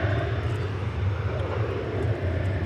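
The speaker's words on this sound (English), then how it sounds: "Off goes flight 2331 to Cleveland." A Boeing 737-800 airliner on its takeoff roll at DFW Airport, a steady, loud, continuous engine roar with a low rumble that holds throughout, without any voices.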